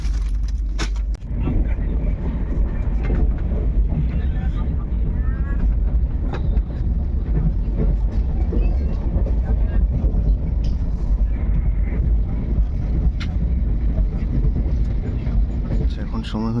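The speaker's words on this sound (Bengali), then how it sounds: "ট্রেন মালদা টাউন ছাড়লো, অনেকটাই লেট মেকআপ করেছে" Kaziranga Express passenger train running at speed after leaving Malda Town, a loud, continuous low rumble with rattling and clattering throughout, heard from inside the carriage with faint voices underneath.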